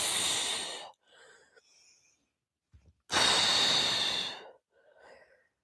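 Two long, loud breaths out during a Pilates bridge exercise, each a strong breathy rush lasting about a second, with softer quiet breathing between them.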